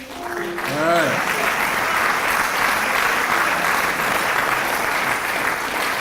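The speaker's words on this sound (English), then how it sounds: "Please stand up, and then another round of applause." Sustained audience applause fills a military service celebration ceremony, steady and loud throughout after a brief voice at the start.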